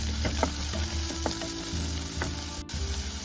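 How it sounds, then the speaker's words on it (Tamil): Green chili and ginger sautéing with onion in a pan for ridge gourd chutney, a steady close sizzle with scattered stirring clicks and scrapes throughout, no talking. "பச்சை மிளகாய், இஞ்சி எல்லாத்தையும் வதக்கிக்கணும்."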